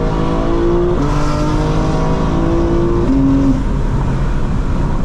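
A 2024 BMW M4 Competition xDrive on a drive accelerates steadily with a loud, continuous engine drone from inside the cabin, and the pitch climbs and shifts through the gears.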